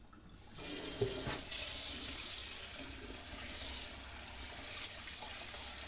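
Cold tap water runs steadily into a pot for cooking rice, a continuous hissing gush that starts abruptly and carries on close by for several seconds, with no talking.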